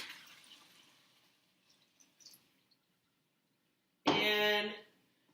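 Chicken bone broth poured from a pot, a short loud splashing gush near the end after a quiet stretch of faint kitchen rustle and small clinks.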